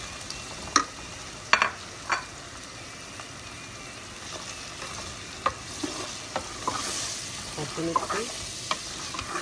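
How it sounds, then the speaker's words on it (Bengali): Prawns fried and stirred with spices over onions for a Bengali prawn curry, a steady sizzle broken by several sharp scraping stirs. A voice speaks briefly and softly over it. "মশলার সাথে কষিয়ে নেব চিংড়ি মাছগুলো"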